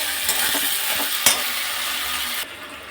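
Spiced masala stir-fries in a pan, a loud, close sizzle broken by scraping stirs and one sharp clatter of the utensil midway, before the frying drops quieter near the end.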